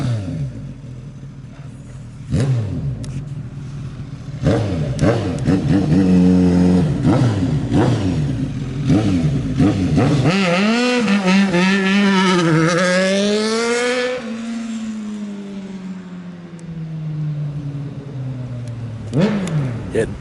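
A 1988 Kawasaki ZX1000-B1 Ninja motorcycle engine on a demo ride, loud and close, climbs through a long rising rev before settling back to a steady idle-like drone.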